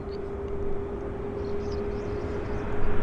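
Metroliner cargo plane landing at Vancouver airport, a steady droning engine roar with a sustained hum, loud and continuous without a break.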